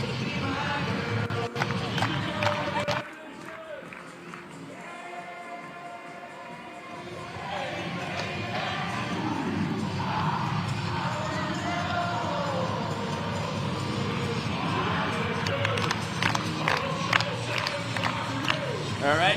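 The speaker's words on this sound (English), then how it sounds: "Full capacity crowd for the 2nd straight night," Full-capacity baseball crowd of nearly 8,000 at Constellation Field during a Banana Ball game, a broad roar of voices and cheers that dips briefly, then swells back under an announcer's talk.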